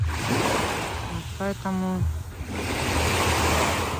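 Sea waves wash steadily onto a clean beach near Chalkida on Euboea, Greece, as a constant near surf hiss, and someone briefly speaks over it midway.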